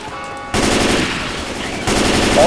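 Automatic gunfire in the zombie shooter Left 4 Dead 2, as survivors mow down the undead in a steady, loud stream of rapid shots with no pauses.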